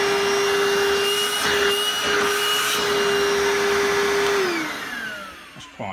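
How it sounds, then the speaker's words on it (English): A Vax TBTTV1B1 cordless SlimVac 22.2 V bagless stick vacuum runs with a steady whine and airy rush, then spins down as the motor cuts off near the end. "It sounds like a corded vacuum."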